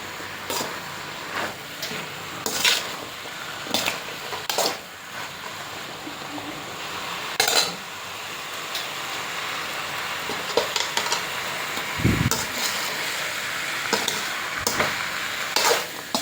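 Cooked pasta being stirred in a pan, with intermittent scraping and clattering strokes of a utensil over a soft sizzle, close by and irregular, with one brief low thump near the end.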